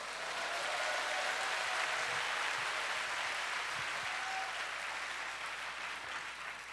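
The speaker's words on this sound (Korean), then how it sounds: "박수를 치든 칩시다." Sustained applause from a large audience at an evening church service, a dense, even wash of clapping that holds steady throughout without any talking.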